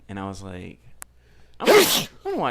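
A single sharp, loud sneeze bursts out close by between stretches of a person talking casually.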